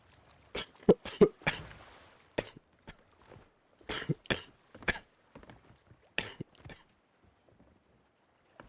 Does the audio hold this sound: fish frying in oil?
no